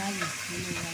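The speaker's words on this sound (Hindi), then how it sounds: "और इसे हम फ्राई कर रहे हैं।" Mustard seeds and curry leaves fry in hot oil, giving a close, continuous sizzle with crackling and stirring throughout the short moment.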